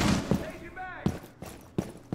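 Video game gunfire shooting through a wall, a few separate sharp shots spaced out under a voice talking.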